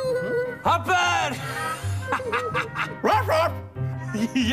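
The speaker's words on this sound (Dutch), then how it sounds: "Honden kunnen blaffen." A dog barks and yips several times, close and loud, mixed with people talking and a light musical backing, in a children's programme setting.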